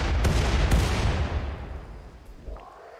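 A mortar fires in the game RimWorld, a loud close blast that rolls off into a long fading rumble, followed by a fainter second thud.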